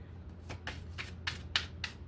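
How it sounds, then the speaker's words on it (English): Tarot cards being shuffled by hand, a series of crisp riffling bursts in quick irregular succession, close and fairly quiet with no talk. "so we'll shuffle it up"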